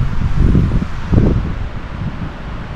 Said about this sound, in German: der Wind nimmt kräftig zu